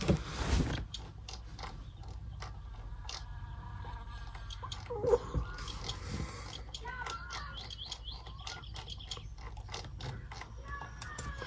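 Battery being retightened in the My Summer Car video game, heard as sparse mechanical clicks and ratcheting ticks scattered over a quiet background with faint chirps.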